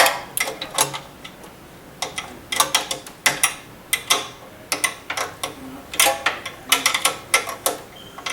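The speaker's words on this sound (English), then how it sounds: "Notice how good I am with the wrench." A hand wrench tightens a strengthening nut on the frame of a home quilting machine, giving a steady run of sharp metallic ratchet clicks in quick bursts, close by with no talk.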